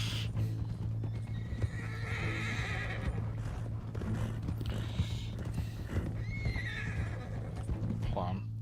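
A horse in Red Dead Redemption 2 whinnies several times over a steady clip-clop of hooves, with a constant low hum running beneath throughout.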